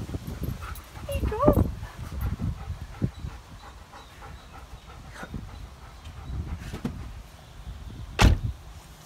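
A dog barks and whimpers while looking up for a squirrel, giving a few sharp close barks among softer whines and panting, with people talking over it outdoors.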